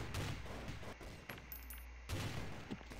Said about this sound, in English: Grenade gun.